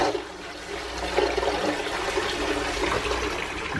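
A public toilet flushes in Buddha Park, Vientiane, Laos: a steady rushing and gurgling of water that swells slightly partway through and keeps running at moderate volume with no talk.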